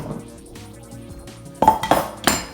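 A metal saucepan is set down and knocked on a stove, giving three or four sharp, close clanks with a ringing tone after a quiet stretch of faint kitchen background.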